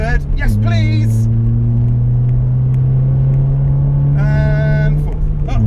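A Honda car engine runs loud and steady, rising and dropping as a short shifter snaps through the gears; a person talks over it now and then.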